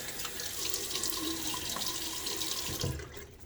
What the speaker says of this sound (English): throw a little water on my face